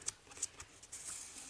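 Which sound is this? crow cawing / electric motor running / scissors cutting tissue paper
scissors cutting tissue paper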